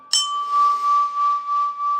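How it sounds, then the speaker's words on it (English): A struck ice bell cymbal from a drum kit gives one sharp metallic hit that rings on as a bright, sustained tone with a gently pulsing shimmer, loud and close, with nothing else heard. "Ice bell, this is the ice bell."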